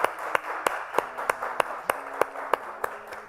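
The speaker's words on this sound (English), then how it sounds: "let's give her a big round of applause as well" A single pair of hands claps in a steady, evenly spaced rhythm, about ten distinct claps over a soft background hum, during a Boys and Girls Club Youth of the Year awards event.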